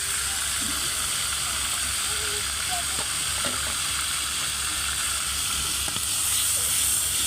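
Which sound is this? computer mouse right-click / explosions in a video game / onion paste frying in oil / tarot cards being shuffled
onion paste frying in oil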